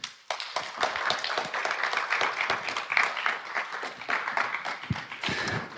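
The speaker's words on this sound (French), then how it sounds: "Il est là, on l'applaudit." An audience at a Japanese-culture festival lecture on Osamu Tezuka breaks into lively, close applause as the speaker arrives, with crisp individual claps audible in a dense, steady rhythm.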